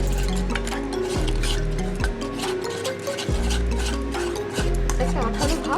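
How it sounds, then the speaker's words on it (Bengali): Cornflour and rice flour batter whisked in a bowl, a steady brisk stirring and clinking that runs continuously with a few sharper knocks against the bowl, close and fairly loud. "1/2 চামচ দিয়ে দেবো চালের গুঁড়ো। ভালো করে আমি এটা এর সঙ্গে ফেটিয়ে দেবো।"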